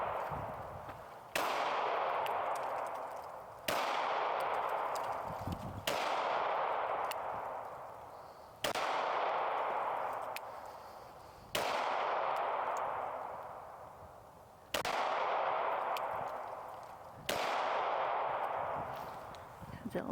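Smith & Wesson Bodyguard 2.0 pistol fired outdoors: seven sharp, loud shots spaced roughly every two to three seconds, each cracking sharply and then trailing off in a long decaying echo.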